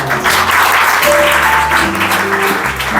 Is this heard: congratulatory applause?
yes